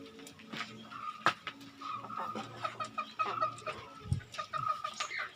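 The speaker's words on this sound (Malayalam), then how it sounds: "അപ്പോൾ നമുക്ക് കോഴികളെ പരിചയപ്പെടാം." A flock of about sixty chickens with chicks clucks and murmurs in a small farm coop, with repeated low clucks and occasional louder calls and scattered rustling, fairly faint overall.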